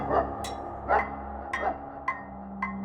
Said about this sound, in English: Then he heard the dogs.